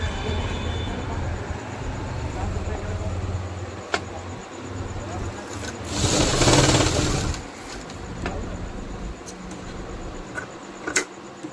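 An industrial sewing machine stitches a trouser back pocket with a steady mechanical whir and chatter, growing louder in a burst midway, with sharp clicks scattered through and faint workshop noise.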